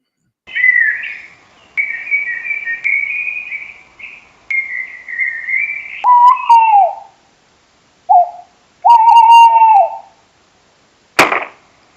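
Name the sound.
owls hooting on a field recording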